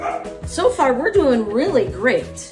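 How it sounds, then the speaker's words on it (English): A person talks while dogs bark and yip repeatedly nearby, several sharp barks breaking through the speech. "I apologize for the dogs barking"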